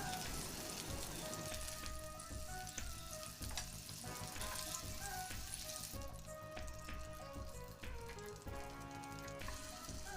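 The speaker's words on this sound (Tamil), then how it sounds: "இதே மெத்தடில் எல்லா சீக் கபாபையும் ஃப்ரை பண்ணி எடுத்துட வேண்டியதுதான்" Mutton seekh kebabs fry in a pan of oil with a continuous close sizzle and crackle that holds steady throughout, no voices over it.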